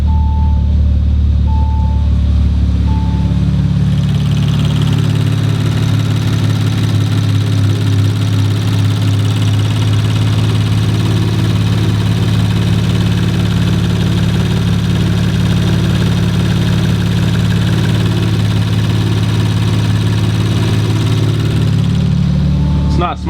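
A rebuilt, heavily damaged 2019 Audi RS5 engine runs steadily at idle, a loud continuous mechanical hum with a few short beeps near the start and voices talking over it.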